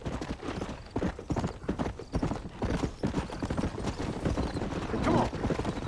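Horses galloping in Red Dead Redemption on Xbox One, dense rapid clip-clopping hooves with occasional neighs, with a player talking over the game sounds.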